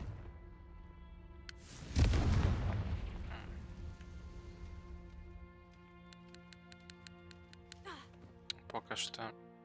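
A Confringo fire spell explodes in the video game Hogwarts Legacy with a loud, deep boom that fades over a couple of seconds, followed by quieter game chimes and clicks.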